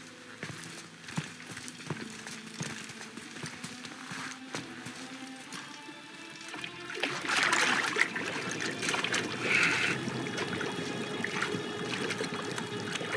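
Water sloshes and splashes in God of War gameplay as a head is held underwater, with trickling and churning that swell midway and then continue steadily, at moderate loudness with no talk.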